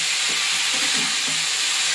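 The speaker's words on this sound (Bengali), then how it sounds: "একটু কষিয়ে নিই ভালো করে।" Pumpkin stems sautéing in a hot pan give off a steady, close sizzle and hiss that runs unbroken for two seconds, with no voices.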